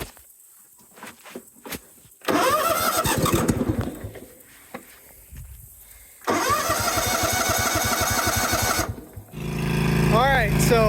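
A John Deere GT245 lawn tractor is started twice on choke, with a cranking starter each time and the engine catching into a loud rough run. Quiet gaps with clicks and footsteps fall between the attempts, and a voice speaks near the end.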